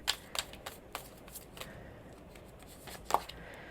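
Tarot cards shuffled and drawn by hand, a run of soft riffling flicks and light snaps with one crisp slap near the end, close and quiet, no talk.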